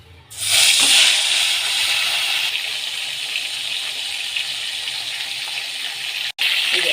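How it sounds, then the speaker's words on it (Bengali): Pieces of rohu fish rubbed with salt and turmeric sizzle loudly in hot oil in a pan, a sudden burst of frying that settles into a steady, bright crackling hiss, with no voices over it. "তেলটা গরম হয়ে গেছে এবার মাছগুলো দিয়ে দেবো"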